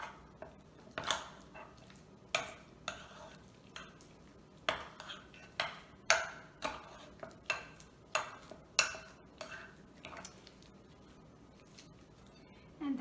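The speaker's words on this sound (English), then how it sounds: "And mix that very, very well." A spoon stirring sour cream filling in a bowl for cream cheese rollups gives quiet, irregular clinks and scrapes against the dish, spaced about a second apart.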